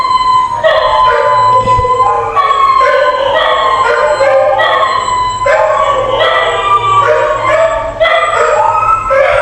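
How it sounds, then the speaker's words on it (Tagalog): Several dogs howl together in long, wavering, overlapping cries that rise and fall, loud and continuous with siren-like pitch, over a low steady rumble; no talk. "Uungol yung mga aso."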